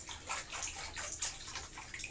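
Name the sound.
stirring coarse salt into water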